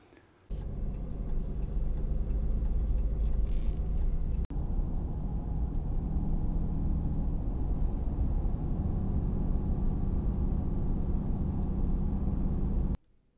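A vehicle drives at steady speed while towing a camper, giving a continuous low road rumble and engine drone that runs unbroken for most of the stretch, close and fairly loud, with no talk over it.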